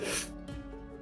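A short, sharp sneeze bursts out at the start, followed by a faint low hum in the background.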